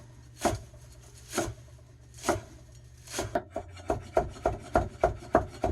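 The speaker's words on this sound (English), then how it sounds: "Chop for a while." Knife chopping smoothie ingredients on a cutting board before blending: a few slow, spaced chops, then a quicker steady run of close, crisp knocks with no talk.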